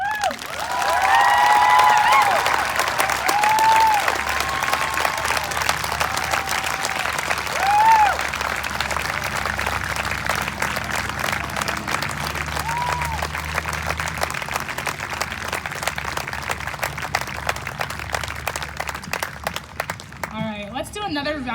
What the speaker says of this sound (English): of applause for Madeline.